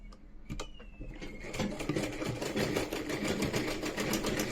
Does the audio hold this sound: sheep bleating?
no